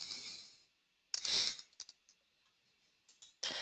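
Computer mouse clicks while working in AutoCAD software, a handful of sharp, quiet taps scattered through a faint background hiss.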